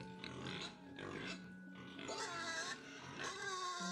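Pigs oink and grunt in the farming sim Settlement Survival, a few short squeals and snorts over the game's ambient sound, with someone talking alongside.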